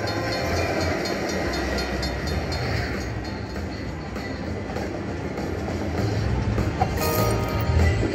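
A train-themed slot machine plays its big-win effect, a steady rumbling steam-train clatter with some clinks and a brief brighter burst near the end, moderately loud without any voices.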